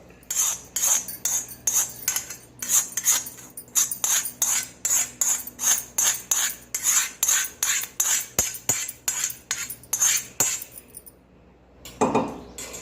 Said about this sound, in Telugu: వేసుకొని మంచిగా కలుపుకోవాలి